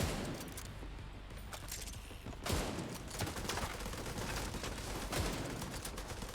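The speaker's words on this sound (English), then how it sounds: "Those fire rounds are really good" Sustained gunfire with fire rounds in a shooter like The Division 2, a dense barrage of overlapping shots with a few stronger cracks standing out against the continuous rattle.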